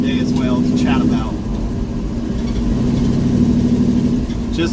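A 1971 Chevy C10 pickup with a new torque converter runs with a steady, loud low engine rumble from inside the cab, with someone talking over it.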